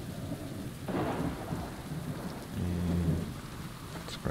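Thunder rolls through steady rainfall in the survival game Subsistence, with a sharp crack followed by deep rumbling under continuous close rain hiss.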